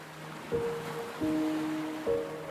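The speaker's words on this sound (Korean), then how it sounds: "바위를 삼킬 듯 넘실대는 파도와 시원한 바람은 이곳을 찾는 이를 설레게 합니다" Waves surge against rocks at the southern tip of the Korean peninsula, with three rushing swells about a second apart under soft, sustained musical tones.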